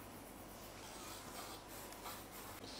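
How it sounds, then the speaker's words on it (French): Nail file rasping back and forth to shape a fingernail, a faint steady scratching that runs throughout, close but quiet under background noise. "tu refais la forme rapidement avec ta lime"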